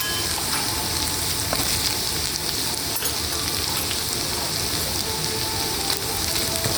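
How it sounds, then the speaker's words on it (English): Quartered onions frying over high heat in a pan with sesame oil for Indo-Chinese chilli paneer, a loud, dense, continuous sizzle like heavy rain, with a few faint stirring clicks and no speech. "Let the onions cook through."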